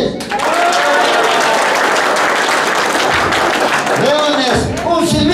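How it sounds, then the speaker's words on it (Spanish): Cheering children's teams in a Chilean classroom setting burst into loud group applause, steady clapping mixed with excited shouts and voices throughout the short burst. "¡Cobras, un aplauso para ustedes!"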